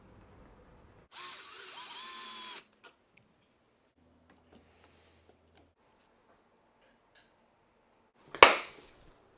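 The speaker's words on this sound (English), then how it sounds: "It is an air compressor pump that is easy to carry around" A portable air compressor pump for e-bike tires runs in a short, steady buzzing burst at moderate loudness, followed by quiet with faint handling clicks and a sharp clattering noise near the end.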